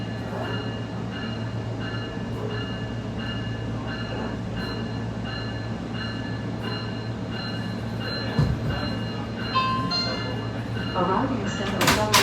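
A SMART commuter train pulls out of Larkspur station, heard from inside as a steady low rumble and hum with tonal whine, rail clatter building toward the end, and a voice speaking over it.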